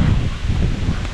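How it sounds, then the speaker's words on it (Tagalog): Strong wind blowing hard, roaring and buffeting steadily in a loud, close rush that crackles across the microphone, with no voices. "Apakalakas ng hangin."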